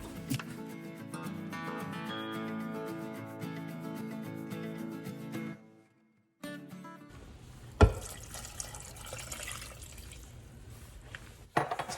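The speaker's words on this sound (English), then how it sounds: "Adding the water and setting it to boil." Water poured into a pot for boiling while making kei apple preserves: a steady splashing pour with a clunk partway through, after a tonal, music-like passage and a short silence.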